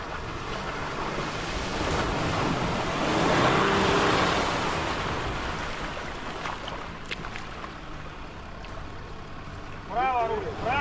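A fourth-generation Land Rover Discovery 4 ploughs through water on an off-road trail, a steady, loud rush and churn of splashing water under engine drone, with a brief voice near the end.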